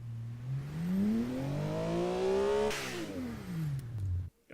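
A boxer H6 engine revving in BeamNG.drive, rising smoothly in pitch for a few seconds, then falling back as the revs drop, loud and alone with no talk, cutting off near the end.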